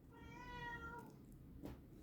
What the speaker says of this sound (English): My cat is pissed off.